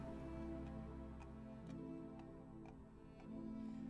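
Horse costume in Final Fantasy 14, soft evenly spaced clopping hoof taps, faint and close, over a sustained tonal music bed.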